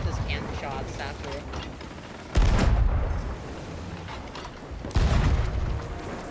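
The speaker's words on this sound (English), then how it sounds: "I can just practice cannon shots after" Heavy booming cannon blasts in Sea of Thieves, two big bursts a few seconds apart from a sloop in the arena, over continuous rumbling battle noise and a talking voice.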